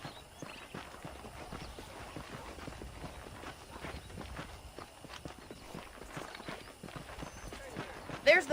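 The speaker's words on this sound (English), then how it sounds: "The horses are saddled up over here." Steady clip-clop of horse hooves in the video game Red Dead Redemption, walking at an even pace, mid-distance, with a voice talking over the hoofbeats throughout.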